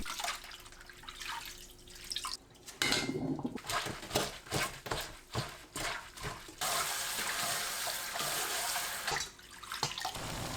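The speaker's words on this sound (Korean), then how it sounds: "불린 미역을 조물조물 씻어줍니다." Soaked dried seaweed is scrunched and rinsed in water, producing splashing, squelching and running-water sounds in irregular bursts, with a steady stream of water in the latter part.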